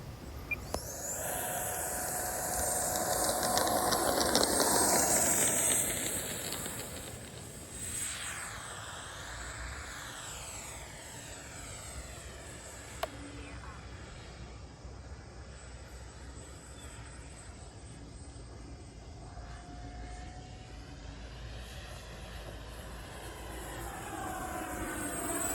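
A radio-controlled XFly F-35 model jet with a 64 mm ducted fan whooshes loudly overhead, its pitch sweeping up and down as it passes, then settles into a steady distant roar.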